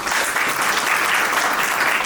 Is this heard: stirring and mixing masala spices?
no